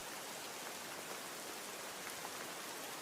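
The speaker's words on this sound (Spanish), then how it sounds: "La lluvia golpeaba con furia sobre los tejados desvencijados de la vecindad, produciendo un sonido monótono y opresivo" Steady, dense rainfall hisses continuously on rundown rooftops, even and unbroken with no voices.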